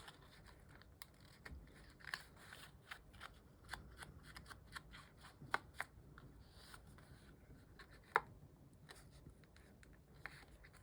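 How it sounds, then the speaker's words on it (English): Paper edges are crinkled by hand to age a beach-themed journal cover. Soft, close rustling and crackling comes in faint irregular bursts, with no talking. "I'm just crinkling up the edges especially"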